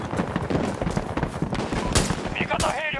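Pistol shots in the video game Battlefield 2042 crack out loudly in a rapid series amid dense game combat noise, with a voice talking over them.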